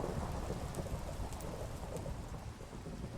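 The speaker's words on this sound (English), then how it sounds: "And it is proper thundering." Heavy rain falls steadily while thunder rumbles in a Minecraft modded world, a dense, loud wash of rain noise with a low, continuous roll of thunder beneath it.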